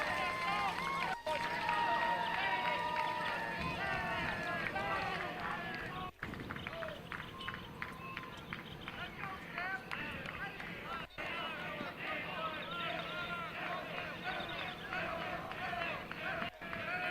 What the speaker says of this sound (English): You hear that Jena crowd too.